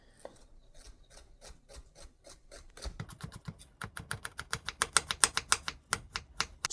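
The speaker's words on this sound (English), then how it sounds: "Take the fennel, cut it in half." Knife slicing straight down through a fennel bulb to halve it, a run of crisp, rapid crunching snaps that quicken and grow louder toward the end, close up with no talking.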